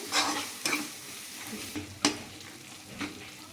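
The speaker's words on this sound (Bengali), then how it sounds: "মশলাটা খুব ভালোভাবে কষানো হয়ে গেছে।" Spiced masala for a dhaba-style chicken bharta being stir-fried in a pan with added chilli powder, giving a soft continuous sizzle broken by several sharp scraping strokes of a spoon against the pan, close and fairly quiet.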